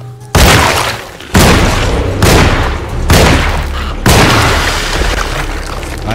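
Gunfire in the video game Alone in the Dark (2024): five heavy, booming shots spaced about a second apart, each trailing off in a rumbling echo.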